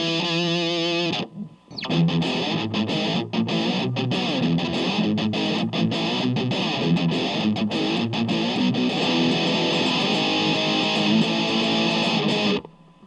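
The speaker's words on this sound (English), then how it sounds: "We are now in the distortion setting." A Harley Benton ST-JAMster electric guitar plays through its built-in distortion effect, producing a loud, sustained, gritty overdriven riff with chord strums and choppy muted stops before ringing out and cutting off.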